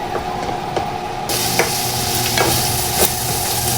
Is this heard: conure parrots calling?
no